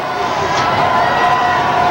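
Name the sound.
cheering crowd at Times Square millennium celebration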